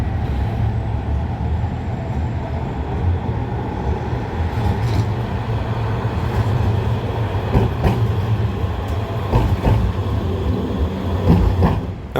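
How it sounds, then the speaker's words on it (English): Manchester Metrolink tram arriving at the Exchange Square stop, a steady loud rolling rumble with rail clatter and occasional sharp clicks, growing slightly toward the end with no talking. "here comes a tram, perfect timing"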